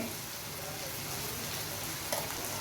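A vegetable and tomato mixture with turmeric added cooks in a hot pan with a dense, constant sizzle and frying hiss close by, and a brief scrape of stirring near the end.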